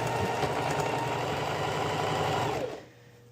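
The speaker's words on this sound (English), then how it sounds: "I'm going to go ahead and just use the sewing machine since I have it up." A sewing machine runs continuously while stitching a sundress, a steady mechanical whir with a rapid needle rhythm, close and fairly loud, stopping abruptly near the end.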